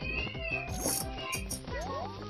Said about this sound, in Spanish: Jamás había escuchado que tu gato hiciera ese sonido tan espectacular